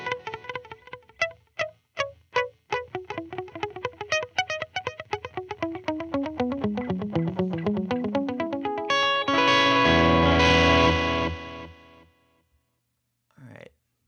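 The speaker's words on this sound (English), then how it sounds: "So this is just gonna be like your very clean digital delay sort of sound." A Replicant delay plugin on its plainest setting turns a sequence of plucked synth notes into clean digital repeats that trail each note, building into a dense wash before cutting off, with a short burst near the end.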